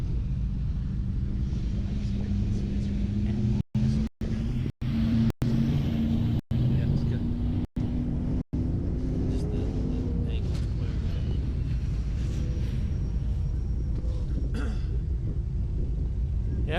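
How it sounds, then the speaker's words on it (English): An off-road race with a Jeep-based 4600 Pro Comp stock class buggy: a steady, fairly distant engine rumble drones throughout beneath continuous commentary. "Dawson Allington's still out front in his Jeep-based 4600 Pro Comp stock class buggy."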